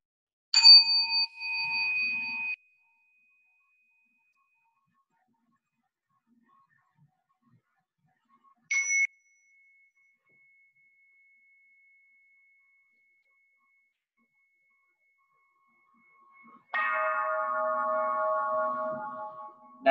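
Small bells rung during a Soto Zen temple procession, three clear strikes spaced widely apart with ringing decay, the first and last sustained, the middle one brief, alone in an otherwise silent hall.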